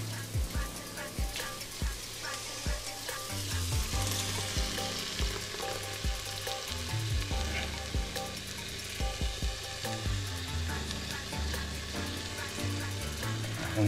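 Sauce poured over sautéed vegetables in a pan for waterzooi sets off a loud, steady sizzle and frying crackle, with scraping stir strokes and clanks through the mix.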